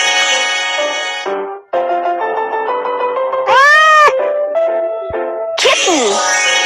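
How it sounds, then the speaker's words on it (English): Cartoon kitten meowing in a string of clear, high, tonal meows of varying pitch and length, close and loud, some rising and falling in sweeping calls. "Kitten."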